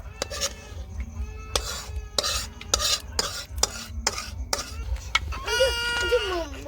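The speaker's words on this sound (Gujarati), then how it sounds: "ફટાફટ આમ બધું હલાવો" Peanut chikki mixture stirred quickly in a pan over steady gas flame, giving a string of rapid scraping strokes with a rooster crowing and clucking in the background.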